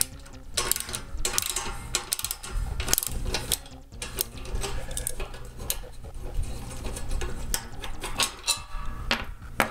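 A 7/16 wrench working bolts loose from a satellite dish mount, producing rapid, continuous metallic ratcheting clicks and clanks at close range, fairly loud and steady throughout, with no talking.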